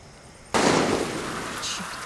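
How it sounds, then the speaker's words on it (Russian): A sudden loud broadband burst of gunfire in the video game Far Cry 6, striking abruptly after near silence, then a sustained noisy rumbling decay with a faint later crackle. "Черт, кто стреляет?"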